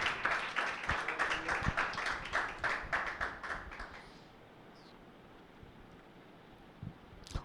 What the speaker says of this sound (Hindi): यीशु के लिए तालियां बजाएं कलीसिया